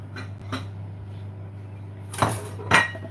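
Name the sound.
scooping food onto a plate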